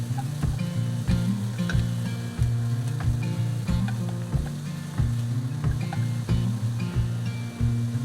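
Bacon and Brussels sprouts frying in a pan while being stirred, a constant close sizzle punctuated by regular scraping and knocking strokes from the stirring utensil.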